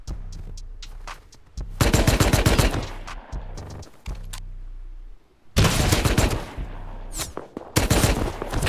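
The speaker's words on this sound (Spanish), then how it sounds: "Me disparan dos desde la costa, bro." Two players on the coast open fire in the Rust video game, with loud, close bursts of rapid automatic gunfire broken by short pauses and single shots.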